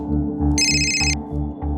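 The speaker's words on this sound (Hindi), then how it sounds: "जरा देख तो किसका फोन है." A telephone rings indoors with a bright electronic ringtone, one sustained burst over a steady low hum and background clatter, loud and close with no voices.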